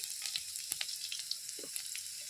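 Whole garlic cloves fry in hot oil with a soft, steady sizzle and scattered small crackles and pops, heard close and alone.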